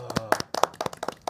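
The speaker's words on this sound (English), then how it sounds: "Everyone clap." Several people clap at a game event, a quick burst of uneven, close hand claps with some voices mixed in.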